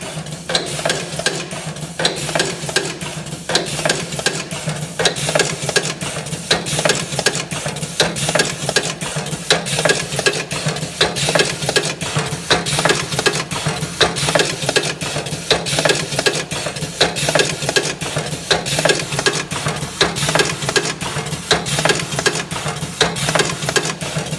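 A cigarette rolling machine runs continuously with a rapid, steady mechanical whir and rhythmic clatter, close up and loud, sustained without pause and without talk.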